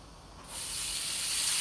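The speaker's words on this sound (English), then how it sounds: "You want to hear that sizzle." Hot oil in a skillet, just starting to smoke, erupts into a loud, broad sizzle as food hits it, then holds a steady hiss, close by and with no talking.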